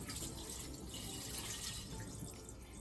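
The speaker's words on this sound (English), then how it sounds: "And then we're going to pour it out." Milky rice-washing water poured out of a pot, a steady, close splashing pour that runs unbroken for a few seconds with no talk over it.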